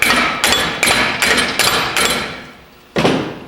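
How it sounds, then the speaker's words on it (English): A hammer taps a differential companion flange during drive pinion work, six sharp metallic knocks in a loose rhythm with a pause before the last, close and loud. "While holding on to the pinion below, gently tap on the companion flange."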